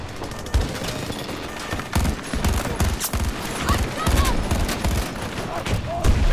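Sustained automatic gunfire in a Battlefield 2042 battle, loud rapid bursts rattling on almost without pause, with thumps and voices mixed underneath.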